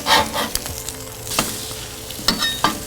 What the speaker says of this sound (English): we're just going to flip them over